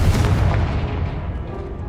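A Confringo spell blast in Hogwarts Legacy on PS5, a single heavy booming explosion that rumbles loudly at first and then fades away over about two seconds, with no voices.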